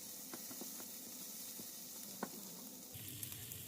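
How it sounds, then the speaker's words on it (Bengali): Onion fries with garlic and ginger paste in hot oil, giving a faint, steady sizzle with a few soft clicks and stirring taps, heard alone with no talking. "এবার আবার আমি একটু পেঁয়াজের সাথে একটু ভাজি করে নিব।"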